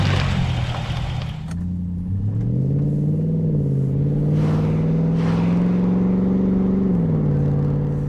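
A Range Rover Sport L320, fitted with a PowerStop Z36 brake upgrade, drives along. Its engine holds a steady, fairly loud drone from inside the cabin, with pitch rising and settling as it shifts gears.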